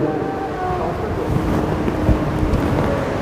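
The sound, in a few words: loud ocean waves at the seashore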